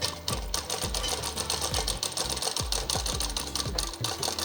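A sewing machine stitches a frock in a tailoring lesson, running in a steady rapid whir with short bursts and brief pauses, close and alone with no talk.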